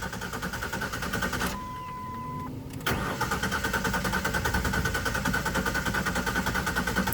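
A car engine cranks and struggles to catch, a loud close rumble that breaks off briefly, then fires again and settles into a steady running drone.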